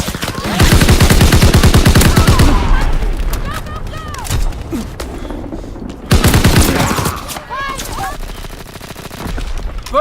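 Gunfire from the World War II shooter Call of Duty WWII in multiplayer play: dense bursts of rapid automatic fire and explosions, loud and sustained, dropping briefly before a second heavy barrage, with shouted voices mixed in.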